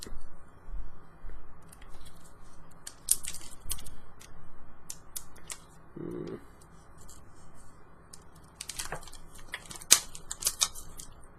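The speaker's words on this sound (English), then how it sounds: "Cut this open and check it out." A Magic: The Gathering Shadows Over Innistrad gift box being cut open, with quiet irregular snips, plastic rustles and light handling clicks nearby, with a brief murmur partway through.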